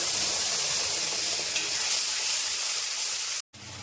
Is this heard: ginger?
yes